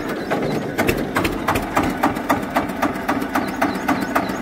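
An Eicher tractor engine runs steadily nearby, its rhythmic knocking pulses repeating evenly throughout at a loud, constant idle with no talk over it.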